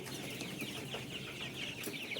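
Sonali chickens clucking continuously close by on a poultry farm, several birds overlapping in a busy, steady chatter.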